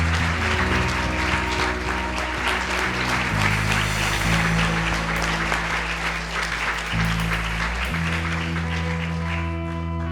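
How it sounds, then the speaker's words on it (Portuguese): Sustained, loud applause from a large church congregation filling the space, steady throughout over a low musical drone. "Se você crê, aplauda o nome do Senhor Jesus nessa noite"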